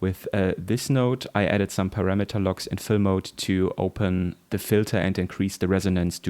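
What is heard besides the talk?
None of the usual background noises is heard.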